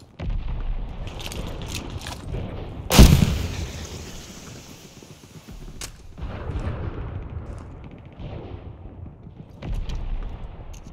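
Gunfire in a Battle of El Alamein war video game with the British Army 20 Brigade: a sharp, loud blast near the start stands out over a continuous rumble of distant battle noise. No one speaks.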